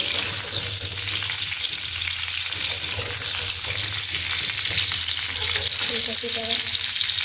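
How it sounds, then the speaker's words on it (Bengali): Cauliflower frying in a pan with a steady, dense sizzle that runs throughout, close and fairly loud, with some faint low hum underneath and no talking. "ফুলকপিটাকে ভেজে নেব"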